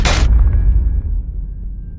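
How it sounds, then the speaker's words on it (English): A spaceship crash-lands on the alien planet Yenna in a science-fiction film: a short, loud broadband impact bursts at the start, then a deep low rumble decays and lingers with faint tonal hum. "The ship speeds through space and crash lands on Yenna"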